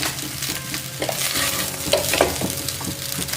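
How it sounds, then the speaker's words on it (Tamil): Cabbage and pepper fried rice stirred and mixed in a hot pan, with a continuous sizzle and scraping spatula strokes, plus a few louder scrapes and clinks, close and alone. "ஃப்ரெண்ட்ஸ் ஒரு 2 or 3 டைம்ஸ் வந்து நல்லா இப்படி நீங்கள் மிக்ஸ் பண்ணி விடுங்க"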